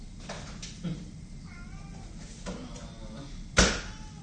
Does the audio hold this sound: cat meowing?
yes